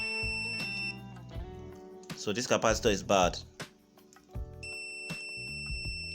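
A digital automatic multimeter emits steady high electronic tones while testing a faulty micro capacitor, sounding near and clear at the start and again near the end, with someone talking in between.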